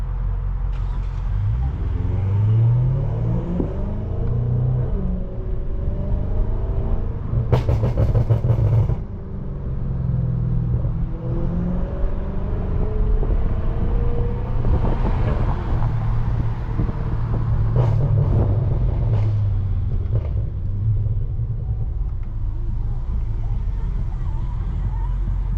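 A tuned 700+ hp BMW M550i driving through Houston city streets, heard from inside as a deep, continuous engine rumble with rising and falling revs, while people talk over it.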